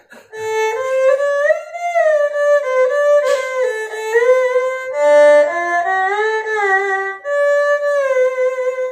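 A bowed erhu plays a sliding, nasal melody alone, with smooth glides between sustained notes and a steady, fairly loud tone.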